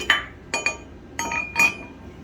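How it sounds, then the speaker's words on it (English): A tool works the collet nut on a 40K Hydrablast pump during a packing change, giving several sharp metallic clinks and taps in small clusters against a quiet background. "First thing you want to do is loosen your collet nut."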